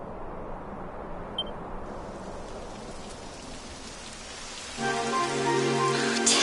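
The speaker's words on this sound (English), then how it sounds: "It would have to go and start raining, wouldn't it?" Steady rain falls in the video game Dragon Quest XI, a dense hiss that grows louder partway through as a brighter layer of in-game tones and chimes joins it.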